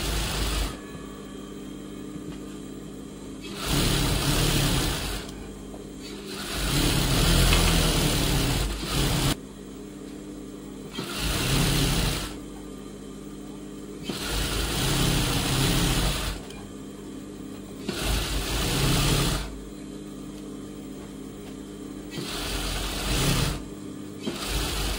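Sewing machine stitching around the back neck of a blouse, running in repeated bursts of steady mechanical whirring that stop and start about seven times, loud and close with no talking.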